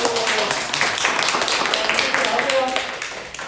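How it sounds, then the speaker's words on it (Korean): Applause from a church youth service for a correct quiz answer. Dense, steady clapping fills the room from the start, with voices mixed in underneath. "박수."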